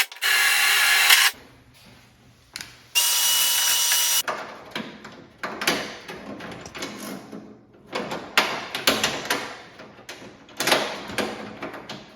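A power drill bores a pilot hole near the fender of a 1981-or-later Chevrolet C10 pickup while hood hinges are fitted, with two loud, high whining bursts followed by quieter intermittent drilling and handling noises.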